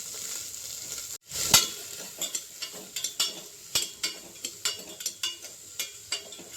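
Chopped small onions sautéing in a spoonful of oil for mutton keema curry, a soft steady sizzle broken by a sharp clatter and then regular scraping stirs of a spoon against the pan.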